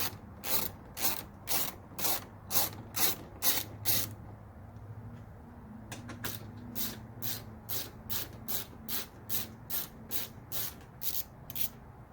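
A ratchet works a 10mm bolt on the headlamp of a Lexus GX460 (2014-2019), giving rapid bursts of close, rhythmic clicking strokes that pause briefly midway and then resume at a quicker pace.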